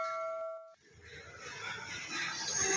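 A single bright bell ding rings out clearly and briefly, then cuts off, followed by a rising wash of noise.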